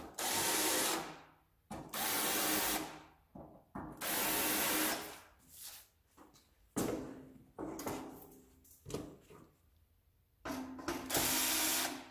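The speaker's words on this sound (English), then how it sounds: "Holes are drilled. Again, we'll just deburr these." Metal deburring on freshly drilled holes in a storage door panel for a 2001 Freightliner bus, heard as repeated loud grinding or rasping bursts of a second or two each, separated by short pauses.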